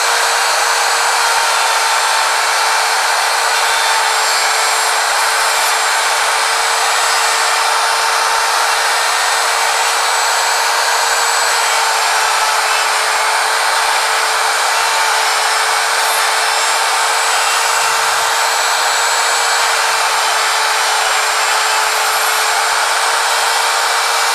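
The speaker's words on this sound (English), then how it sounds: "place the router flat on top of the jig before turning it on" A router cuts dovetail pins on a Peacthree dovetail jig, giving a loud, steady, high-pitched motor whine that runs without a break from start to finish, close up and with no talking.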